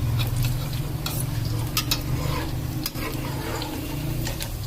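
Onion pakoras fry in hot oil in a kadhai, giving a steady, dense sizzle while a spoon stirs them with scattered clinks and scrapes.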